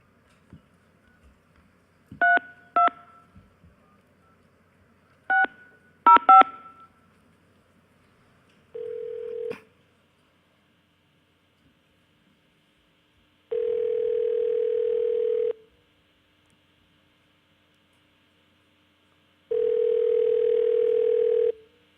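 Telephone touch-tone dialing of a long-distance number, a quick series of close, clear beeps in short bursts, followed by steady line tones that sound in long spaced blocks with silence between.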